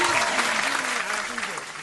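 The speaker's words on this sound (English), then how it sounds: "let's applaud for the whippet." Steady, dense applause from a live audience at a podcast-style show, loud and continuous for the whole stretch, with a voice talking over the clapping.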